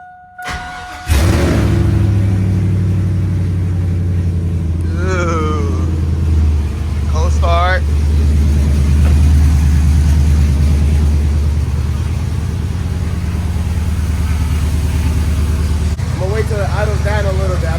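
A Chevrolet Silverado's 4.8 V8 cranks and fires, then settles into a steady, loud idle that runs throughout. A person talks over the engine at intervals.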